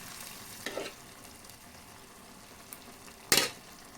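Cooked amaranth dal goes into a hot tempering of chilies, garlic and curry leaves in a pan, a soft steady sizzle broken by two sharp splashy bursts as it is added and stirred; no voices.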